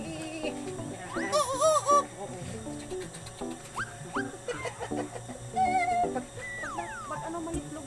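A person imitates a hen cackling after laying an egg, a string of rising squawks and clucks in uneven bursts, close and fairly loud.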